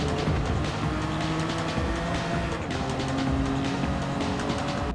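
Ferrari Testarossa in Gran Turismo 7 at Brands Hatch, its engine droning steadily and pulling up through the revs as it accelerates, with a faint tire hiss underneath and no talking.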